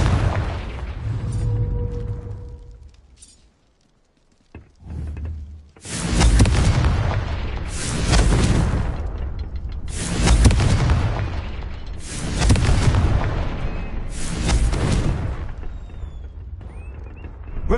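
Fire-blast spell explosions in Hogwarts Legacy: a series of five heavy booming blasts, each a deep roaring burst lasting about a second, spaced roughly two seconds apart after a quieter lead-in, loud and close.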